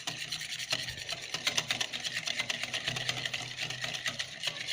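Mayonnaise and mustard are stirred briskly together in a bowl, giving a steady, close, rhythmic scraping and squelching that runs without pause and without talk.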